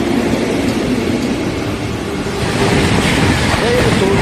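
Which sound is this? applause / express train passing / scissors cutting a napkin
express train passing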